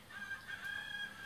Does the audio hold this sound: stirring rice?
no